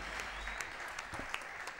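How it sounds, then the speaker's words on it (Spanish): Brief burst of audience applause, a dense patter of many hands clapping at moderate distance, fairly faint. "Aquí lo tenemos, un aplauso."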